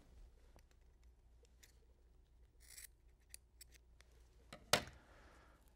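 Scissors cut off the tip of the index finger of a rubber glove, with faint rustling and small handling clicks building to one sharp, close snip near the end in a quiet room.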